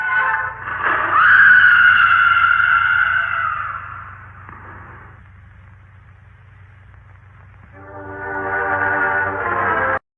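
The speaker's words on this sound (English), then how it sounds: "It is a little confusing as to why they would dub in a woman screaming for this dude." A woman's scream dubbed in for a man falling in an episode of the classic TV western The Lone Ranger: a loud, sustained wail over a low hum, then a quiet gap and a second drawn-out scream.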